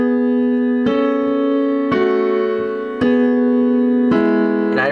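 A piano plays a lick from a song: loud, sustained notes struck in an even rhythm roughly once per second, ringing over one another.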